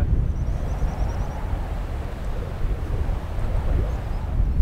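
Steady wind gusting across an open coastal ridge near a lighthouse, a continuous low roaring rush buffeting close to the microphone and swelling slightly toward the end.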